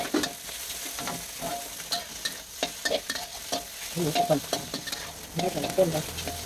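Pork stir-fried in hot oil in a pan, with a steady close sizzle and repeated scraping strokes of a spatula stirring through the meat, no voices.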